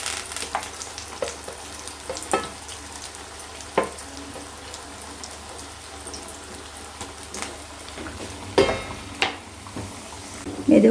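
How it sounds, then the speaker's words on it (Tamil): Potato fingers drop into hot oil for deep-frying, a low continuous sizzle with occasional sharper knocks and clatters of a utensil, growing louder with bursts of bubbling near the end. "இப்போ நம்ம போட்டு பொரிச்சிக்கலாம்."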